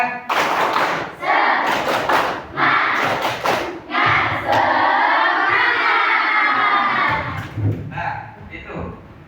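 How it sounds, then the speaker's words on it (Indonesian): Children in an Indonesian classroom perform a rhythmic clapping chant, bursts of group clapping alternating with loud chanted shouts, close and energetic. "mari kita tepuk semangat"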